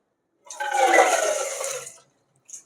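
Water draining from soaked rice in a strainer while preparing a thavala adai premix, a short rushing splash of running water for about a second and a half, then a faint drip.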